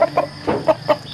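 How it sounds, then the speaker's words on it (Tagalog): Chickens on a Philippine farm clucking while being fed, several short, sharp clucks in quick succession, close and fairly loud with no talk over them. "Mga taga-barako ito para dumami ang ating manok."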